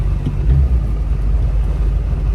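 Duramax diesel pickup truck engine pulling steadily while driving, a deep continuous low rumble with mild throttle that never rises to a hard rev, no talk over it.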